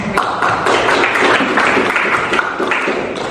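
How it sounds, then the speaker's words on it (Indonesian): Classroom applause during an economics lesson on the state budget, a loud, dense burst of students clapping that continues steadily without pause. "Tepuk tangan."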